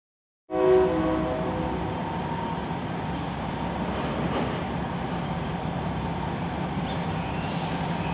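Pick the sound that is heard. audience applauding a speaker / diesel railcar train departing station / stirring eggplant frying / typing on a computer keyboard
diesel railcar train departing station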